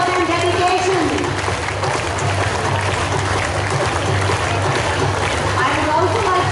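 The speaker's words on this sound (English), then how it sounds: "Keep clapping, children." Children clapping at a school retirement function, a steady dense patter of applause from a large group throughout, with crowd murmur and talking underneath.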